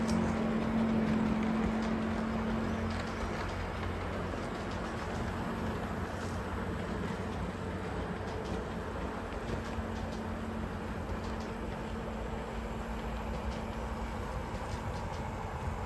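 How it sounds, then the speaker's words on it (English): A large HO scale model freight train with a big locomotive runs along the far track, giving a steady low rumble and wheel hiss that stays fairly faint and even throughout, with no voices. "now I've got a large freight train coming along the far side"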